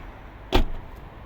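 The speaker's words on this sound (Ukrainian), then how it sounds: "Класно закриваються двері, так щок, ніби ну, як преміальний бренд." The door of a 2011 Mazda 6 Sport with a 2.0 petrol engine and automatic gearbox shuts with one solid, close, low thud, followed by a brief faint rattle.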